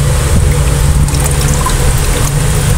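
Water in a container where gel blaster beads have been soaking for four hours, giving a steady low trickling, sloshing wash that runs the whole time with no one talking.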